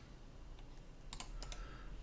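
A few quiet clicks and taps on a computer keyboard during 3D modelling work, a short cluster of crisp keystrokes near the middle over a faint, steady background hiss.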